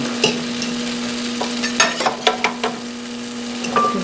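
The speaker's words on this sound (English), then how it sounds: "You can see the butter along the side is sizzling." Butter sizzles and crackles on a hot flat-top griddle while cooking French toast: a steady frying hiss broken by scattered sharp pops, close by, with no talking.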